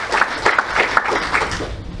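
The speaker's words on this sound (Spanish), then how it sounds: "Denle un aplauso al Señor" A church congregation claps together in a lively, continuous round of applause, dense rhythmic claps filling the room throughout.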